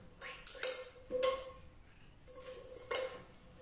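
A metal cooking pot is handled in a kitchen, producing several sharp clanks and ringing knocks at irregular intervals, fairly close and fairly quiet.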